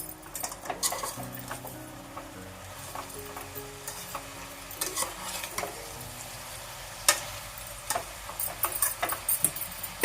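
A brinjal and dried fish curry is stirred in a pan after salt goes in, with repeated scraping and clinking of a utensil against the pan over a soft sizzle, in uneven bursts.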